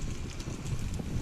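Steady low rumbling wind buffeting a GoPro-style camera microphone strapped to a chest, loud and continuous throughout with no pauses.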